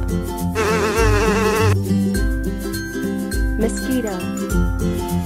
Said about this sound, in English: Wasp.